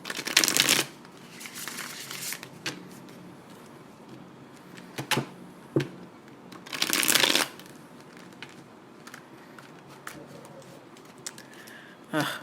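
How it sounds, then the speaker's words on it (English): Cards being shuffled in several bursts, crisp riffling flutters separated by quieter handling and soft taps. "My cards are not wanting to shuffle."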